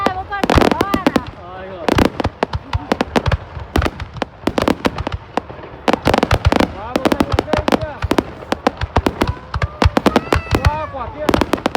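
Dense volleys of high-altitude fireworks explode over Dinh Tien Hoang square, Hoa Lu, Ninh Binh, Vietnam, loud overlapping booms and crackling pops in quick succession with rising whistles, a crowd voice talking underneath.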